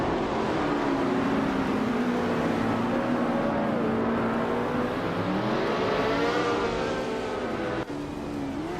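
Formula 5000 race cars lapping a circuit, a steady engine drone with gliding pitch changes as cars accelerate and pass, moderately loud and continuous, with a brief dip near the end.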